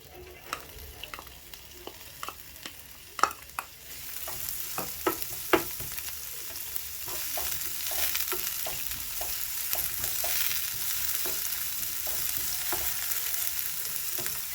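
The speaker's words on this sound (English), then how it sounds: "I'm going to go in with my chopped onions." Chopped onions hit hot cooking oil in a pan for a fish stew, with a few sharp clicks and clatters first, then a steady loud sizzle and crackle that keeps going to the end, near and with no voices.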